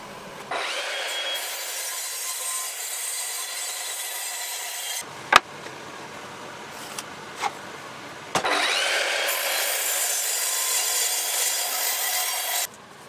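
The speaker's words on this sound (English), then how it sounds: "mark out and then make the cross cuts on the miter saw." A miter saw cross-cuts an oak board in two loud, sustained cuts separated by a quieter pause with a few sharp knocks, heard close up and without talk.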